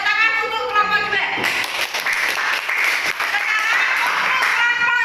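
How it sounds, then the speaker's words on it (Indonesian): Clapping rises from a classroom group after a presentation, a dense patter of hands that swells and holds for several seconds while a voice talks over it. "Tepuk tangan untuk kelompok 2."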